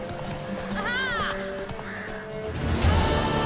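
Horse galloping in a race in The Witcher 3, hooves clip-clopping steadily with a brief whinny-like cry, speech over it and game music behind, louder rush near the end.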